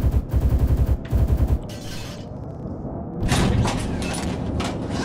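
Gunfire aimed at a squad bursts out in rapid, heavy repeated shots, pauses, then returns as a louder sustained barrage with sharp cracks, loud and close.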